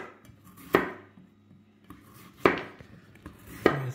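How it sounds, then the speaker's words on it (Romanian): A knife slices zucchini on a cutting board in a home kitchen, giving three sharp, separate chops about a second or more apart against a quiet background. "Așa le tăiem dovlecei."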